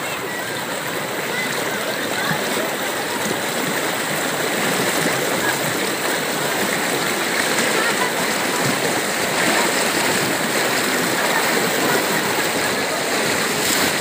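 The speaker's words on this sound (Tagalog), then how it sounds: "Ito, bumalik na naman yung ulan." Rain falls again during a rescue scene as people hurry children across to the other side, a loud, continuous hiss of pouring water with a faint voice under it.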